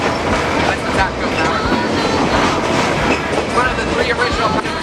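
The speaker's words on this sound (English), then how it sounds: "dragging our train over the many grades" A train rumbles loudly along the rails of the Verde Canyon Railroad in Arizona, with a rhythmic clickety-clack of wheels over track joints throughout.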